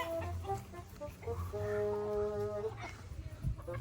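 A skittish chicken clucks and squawks while being chased and caught indoors, with a drawn-out cry in the middle, close and fairly loud, among scuffling noise.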